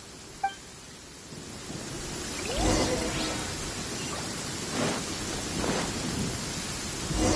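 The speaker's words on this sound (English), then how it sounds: "Lightning storm!" Video game thunderstorm with steady rain hissing throughout and a couple of rolling thunder rumbles building midway and near the end, no voices present.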